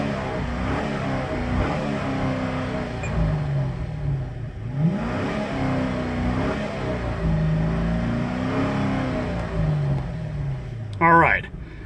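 A 2009 Chevrolet Corvette with automatic transmission revs its engine in a few swelling pulses, a steady mid-pitched drone rising and falling at close range, with a brief sharp burst near the end.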